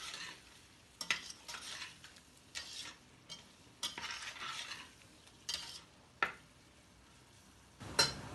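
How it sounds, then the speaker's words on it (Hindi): A spoon stirs spices frying in a pot for Sindhi biryani, making a series of scraping, clattering strokes over a faint sizzle. It is close but quiet, with no talking. "अब आपने इसमें चम्मच हिलाते रहना है, ज़्यादा नहीं, आधा मिनट चम्मच हिलाते रहेंगे हम इसमें, ताकि ये जो हमारे मसाले हैं ये लगने ना पाएँ।"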